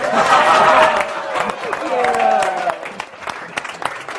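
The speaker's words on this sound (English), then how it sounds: "And now let's do a round of applause for Kathleen." A crowd applauds in a room while voices talk and chatter over the clapping, with the applause thinning toward the end.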